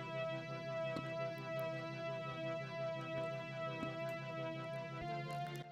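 Two layered synth leads play at once, one an octave above the other, forming a steady, harmonically dense tone with a rhythmic pulsing texture. Soft ticks punctuate it at a low, even volume, with no voices.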